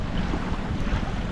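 Strong coastal wind buffets the microphone beside the sea, a steady low rumbling roar mixed with the wash of surf, with no voices.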